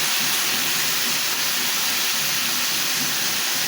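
Spiny gourd (kakrol) frying in plain oil in a pan, a steady, loud, even sizzle and hiss with no breaks and no talking.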